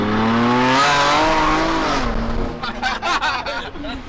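Drift car at a Formula Drift event roaring loudly at high revs with a raspy exhaust that may be leaking, pitch wavering as it slides past, then fading into choppy popping bursts and crowd noise.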